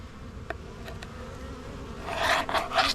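A wasp buzzes close by in soft bursts at a beehive, growing louder near the end over a low steady background hum.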